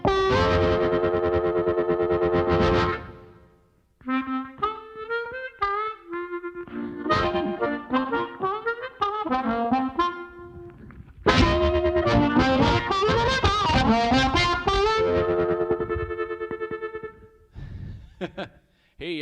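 A harmonica played through an HB52 microphone with distorted, effected tone, bursts of chords and single notes in choppy phrases separated by short pauses, loud and close.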